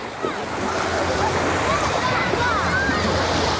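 Black Sea surf rolls onto the beach at Vityazevo in a steady wash of breaking waves with wind buffeting the microphone, while people talk faintly in the background.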